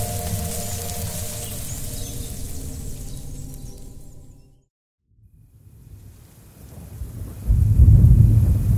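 Thunder rumbles low and heavy as a sound effect in a Bengali audio story, fading to near silence before rain noise and another deep roll of thunder build loudly toward the end.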